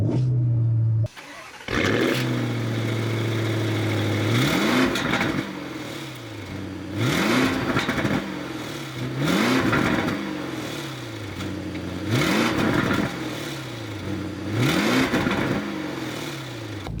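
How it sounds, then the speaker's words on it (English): Porsche Cayenne Turbo GT SUV engine firing up with a sharp starter burst, then settling into idle and being blipped through a series of quick, loud revs that rise and drop at regular intervals, heard from close by. "let's go inside the car and start it up so you can take a listen to it"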